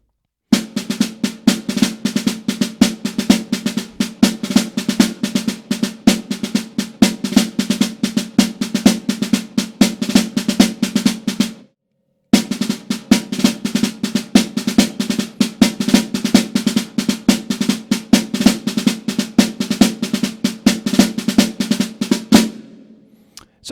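Solo snare drum plays a lilting 12/8 pattern built on drag rudiments, with dense, even strokes and grace-note ruffs, loud and close, stopping briefly near the middle before resuming.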